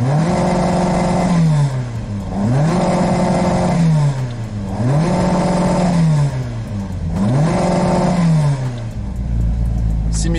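A Volkswagen Golf 2 engine revs repeatedly up to its rev limiter, four loud close rising pulls that hold and bounce at the cutoff before dropping back, with a final deep idle at the end.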